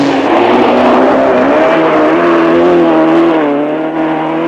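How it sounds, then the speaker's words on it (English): A Lancia Stratos rally car on a forest stage of the 1977 Lombard RAC Rally howls hard under acceleration, a loud, close engine with climbing harmonic whine held continuously throughout, no voices. "World champion Sandro Minari with the fastest car in the rally, a Lancia Stratos, and finding it tough to put all that power on the track"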